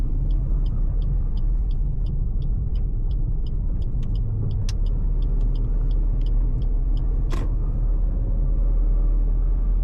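A Suzuki S-Presso AGS climbs a slope in first gear on Cardona Diversion Road. A steady engine and road rumble runs the whole way from inside the cabin, with a rapid ticking clicking along above it.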